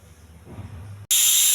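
A stovetop pressure cooker holding ivy gourd with a little water lets out a loud, sudden burst of hissing steam from its whistle after a quiet moment of low kitchen rumble.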